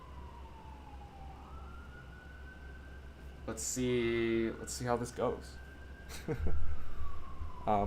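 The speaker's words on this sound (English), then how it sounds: "police sirens outside my house." A police siren wails in the distance outside a house, its pitch sliding up and down steadily, while a person speaks over it partway through.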